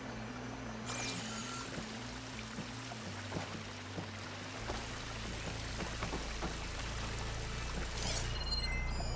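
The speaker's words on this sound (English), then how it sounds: "The water is still leaking." Water leaking and pouring from a damaged pipe in Horizon Forbidden West, a continuous splashing, trickling stream with scattered drips over a low game ambience hum.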